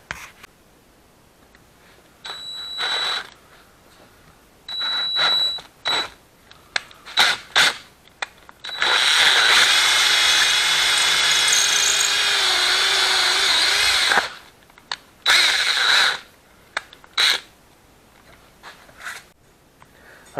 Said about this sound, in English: We'll drill out this hole